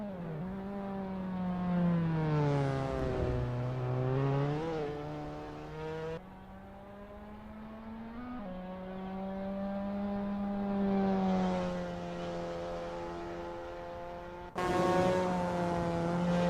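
Mazda MX-5 race car engine in Assetto Corsa at Laguna Seca, a loud sustained tone that rises and falls through gear changes with no talk over it.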